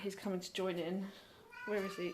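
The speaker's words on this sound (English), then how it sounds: "Sorry, just ignore that really pathetic meowing." A pet cat gives a few short, plaintive meows up close. Someone talks over and between them.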